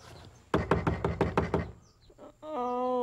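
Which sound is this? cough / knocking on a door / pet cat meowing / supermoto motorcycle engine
knocking on a door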